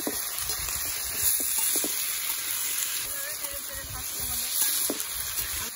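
Potatoes frying in oil until browned give a steady, moderately loud sizzle and hiss with a few soft scraping clicks, continuous throughout with no talk.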